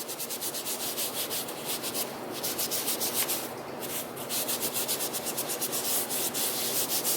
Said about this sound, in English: I'm going to take my cloth and just kind of wipe off that powder residue from the embossing buddy.